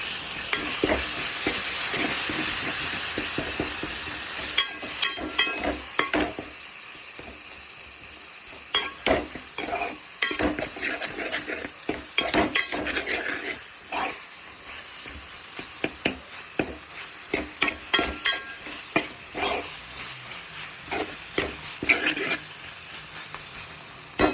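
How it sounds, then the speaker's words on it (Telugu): Turmeric and ginger are stirred into an eggplant and tomato curry frying in a pan, a steady close sizzle broken by repeated spoon scrapes and knocks against the pan, some sharp and loud. "పసుపు, నేను మంచిగా మిక్స్ చేసుకుందాం"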